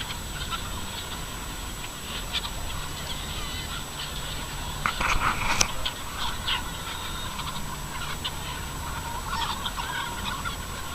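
A large flock of roughly 5,000 chickens on a farm produces a steady, dense bed of clucking and squawking. Occasional louder calls stand out, with a brief burst of commotion midway.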